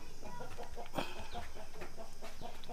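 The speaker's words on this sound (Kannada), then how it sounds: "ಕೆಳಗಡೆ ಕೋಳಿ ಬಿಟ್ಟಿದ್ದೀನಿ ಆರಾಮಾಗಿ." Chickens kept on a farm that also raises sheep and goats give off repeated soft clucks in a steady rhythm, close by, with no talk over them.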